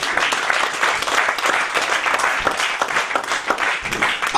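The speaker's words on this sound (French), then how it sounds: "Applaudissons le Seigneur Jésus." Congregation in a church applauding loudly and steadily, a dense, close wash of clapping hands without pause.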